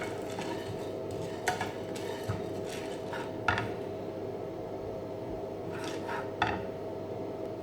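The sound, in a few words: dry-roasting chana dal in an empty pan, stirring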